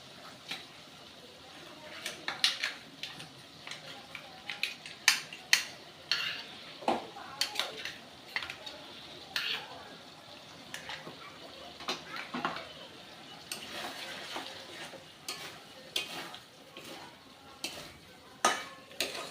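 Cashew and poppy seed paste being stirred into frying capsicum in a pan, with repeated sharp scrapes and clinks of a spoon against metal over a faint sizzle.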